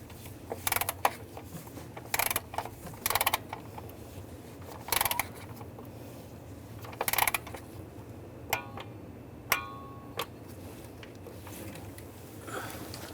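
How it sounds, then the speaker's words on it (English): Torque wrench ratcheting on lower intake manifold bolts of a 2011-2018 RAM 1500 3.6L V6, in short separated bursts of ratchet clicking, then a few sharp single clicks over a low steady background hum. "Now we're going to torque these to 89 inch-pounds."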